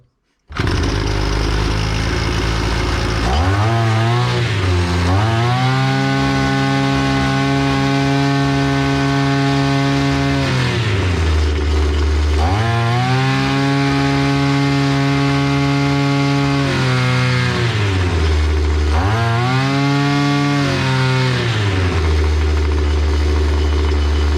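An EFCO brush cutter's small two-stroke engine starts and runs with a raspy buzz, revving up and dropping back to idle three times in a loud, close, rising-and-falling pattern.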